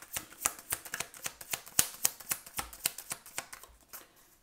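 Tarot cards are drawn from the deck one after another, a quick run of crisp papery snaps and flicks close up, with brief uneven pauses and no voices.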